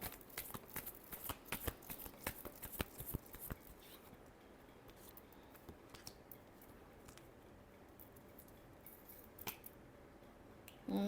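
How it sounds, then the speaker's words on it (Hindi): Tarot cards are shuffled by hand in quick, crisp riffles and snaps, bunched at first and then sparser, soft and close with a quiet room behind. "Last shuffle."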